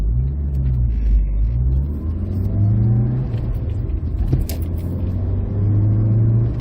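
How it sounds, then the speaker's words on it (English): A 1993 Rover 220 GTi (R8) engine pulls steadily under load, its low rumble rising and holding through the gears as the car accelerates along a 50 mph road. "Such a good range of pull from this engine."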